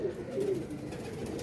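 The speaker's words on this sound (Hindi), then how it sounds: "बुरा मना रहे हैं कबूतर" Soft, low cooing of pet pigeon pairs comes through faintly over a steady background hum.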